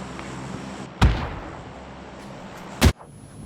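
Two grenades go off in the battle royale game PUBG, each a sharp, loud blast with a short decaying rumble, spaced nearly two seconds apart over faint background game ambience.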